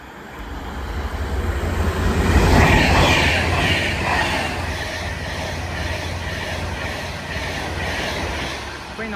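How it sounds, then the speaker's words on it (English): Avanti West Coast train from London Euston to Manchester Piccadilly passing through Nuneaton station on the West Coast Main Line: a rushing roar that peaks early then settles into steady rolling wheel noise, fairly close, without talk. "Soon to pass through now will be a Vantage West Coast service going from London Euston to Manchester Piccadilly."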